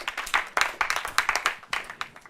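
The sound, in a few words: audience applauding the contestants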